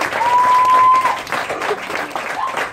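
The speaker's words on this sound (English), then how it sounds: "we should give a big round of applause for them" Brief audience applause in a meeting room, a burst of clapping that swells quickly, then softens, with a whistle-like tone and scattered crowd noise over it.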